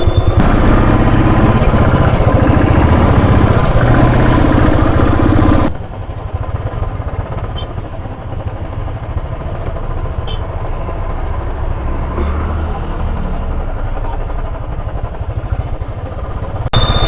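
A motorcycle engine runs continuously in first gear while riding downhill on a mountain road near Mussoorie, loud and rough with wind roar, dropping to a steadier, quieter drone partway through.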